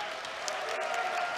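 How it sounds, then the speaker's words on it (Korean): Crowd applause fills an arena at an AFC20 MMA bout between two debuting fighters before the second round, a steady, dense wash of clapping throughout the short stretch. "박수 부탁드립니다."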